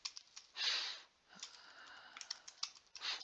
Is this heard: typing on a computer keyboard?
yes